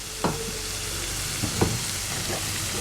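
Kaleji (liver) fries on a tawa with a loud, steady sizzle, broken by a few scraping strokes of the stirring spatula.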